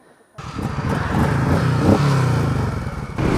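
A Honda motorcycle, made in the USA, starts up after a moment of silence and settles into a steady, loud, close rumbling idle with some mechanical clatter and no talk over it.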